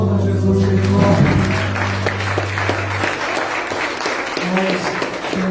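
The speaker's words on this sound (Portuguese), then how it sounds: "Aplauda Jesus bem forte." A church congregation at a Holy Communion service in Garanhuns applauds strongly for several seconds, the clapping rising and then tapering under a voice and sustained music tones.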